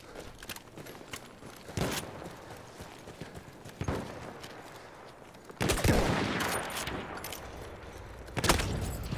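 Battlefield 1 gunfire cracks out in sparse, sharp single shots and short bursts, some loud and close, others distant, over a low battlefield rumble with horse hooves clopping faintly.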